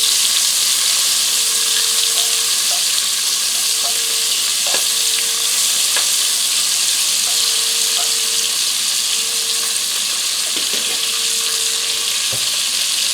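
Half an onion fries in hot oil with a loud, steady sizzle that continues throughout, with occasional faint clicks and taps from the pan.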